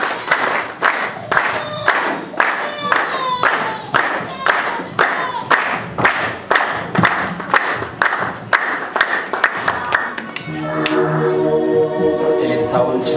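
A church congregation claps in a steady, brisk rhythm to welcome a gospel singer to the stage. Near the end the clapping gives way to music and singing.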